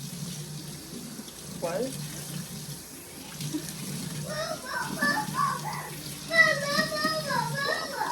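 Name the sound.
washing a sponge under running tap water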